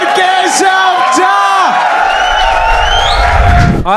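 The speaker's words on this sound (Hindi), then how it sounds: "Make some noise for Keshav Jha." A comedy-show audience cheers and whoops loudly and continuously, with yells rising over a dense crowd roar and a host's voice carrying through it.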